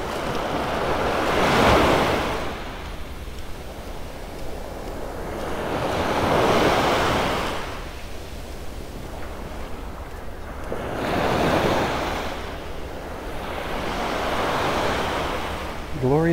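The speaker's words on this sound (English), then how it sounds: "A little bit of a breeze coming a little more out of the east now than the north." Morning breeze on a beach in North Naples, Florida, a broad rushing wind blended with surf, swelling and easing in slow waves about every four to five seconds, close to the microphone.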